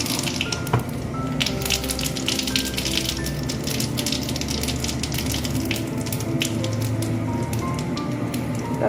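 Whole cumin seeds are dropped into hot oil in a kadai that has already fried dried red chillies, giving a steady, close, dense sizzle and crackle that holds its level throughout with no talking.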